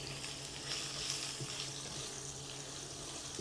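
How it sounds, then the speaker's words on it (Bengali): Small cut potatoes fry in oil with bay leaves, dried chilli and whole cumin, giving a steady, moderately loud sizzle that runs unbroken and fairly close, with no talking over it. "আলুগুলো হালকা একটু ভেজে নেব।"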